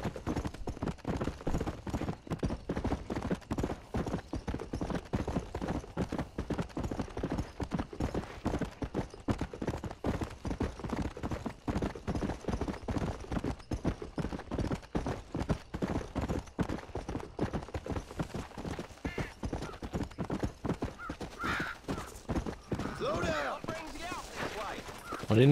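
Horse hooves clip-clop steadily in the Western video game Red Dead Redemption. The rapid, even trotting beat carries on throughout at moderate loudness and ends in a brief scuffle of other noise near the end.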